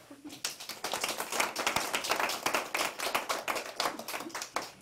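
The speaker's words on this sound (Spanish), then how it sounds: "Un aplauso, pues." A gathering at a community health project event in Nicaragua claps for a presentation on child nutrition. The applause is fairly faint and fluttering, with uneven bursts of hand claps rising and falling over a few seconds.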